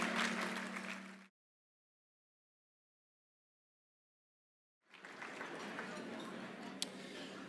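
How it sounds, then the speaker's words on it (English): Guests at a fundraising dinner applaud a choir, a short burst of clapping that breaks off into a long silence, then resumes as steady, fairly soft applause filling the room. "Let's have another round of applause for VocalEssence."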